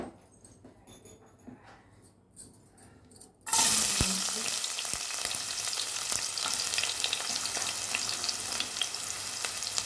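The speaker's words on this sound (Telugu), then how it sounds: "మనం ఫ్రైడ్ రైస్ స్టార్ట్ చేయడానికి కొంచెం ఆయిల్ వేసాను, అది హీట్ అవ్వాలి" Oil heating in a pan for egg fried rice: a few quiet kitchen sounds, then at about three and a half seconds a sudden loud, hissing sizzle erupts and holds steady to the end.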